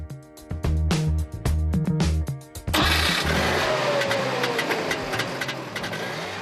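A small 0.6-liter two-stroke twin car engine cranks with a few uneven pulses, then fires and runs steadily at a rough, buzzing idle, close and loud.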